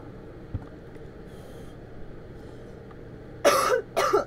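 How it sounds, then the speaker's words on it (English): Two harsh, loud coughs burst out close to the microphone near the end, following a quiet stretch during a console gaming session. "Apologies for coughing."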